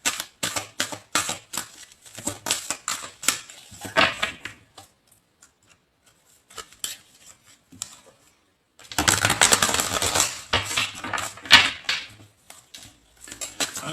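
Tarot cards being shuffled by hand, a run of quick, crisp riffling clatters in two bursts separated by a quieter stretch of sparse taps, close and fairly loud with no talking.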